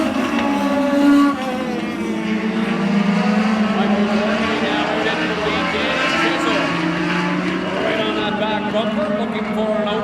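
Legends Division race cars running in a tight pack at Oyster Bed Speedway on Labour Day Monday, engines droning loudly and continuously, with a commentator talking over them.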